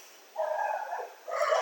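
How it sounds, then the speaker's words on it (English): Dogs barking just outside a window, two short, fairly loud barks or yelps with no talk over them. "I don't have any dogs, but they are just right out of the window there, and I really apologize for their barking"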